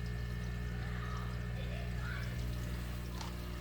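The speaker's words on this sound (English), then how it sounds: "Water just simply flows down into a hole that I've drilled right here." Water drains from a 20-gallon aquarium down through a drilled hole into a homemade sump, giving a continuous pouring, gurgling flow over a steady low pump hum, unbroken from start to finish with no voice on top.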